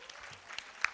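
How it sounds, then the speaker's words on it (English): An audience applauds in a brief, faint patter of many hands clapping, with a couple of sharper claps standing out. "can we have an applause for them"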